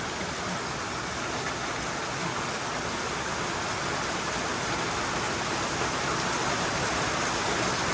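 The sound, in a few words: rain falling outdoors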